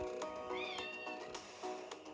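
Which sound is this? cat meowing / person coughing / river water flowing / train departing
cat meowing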